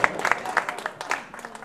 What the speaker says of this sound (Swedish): Trevlig applåd.